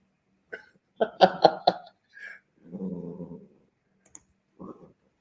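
A dog growls in low, rumbling bursts, with sharp snorting or coughing sounds before and a brief short growl after, close to the microphone and with no talking.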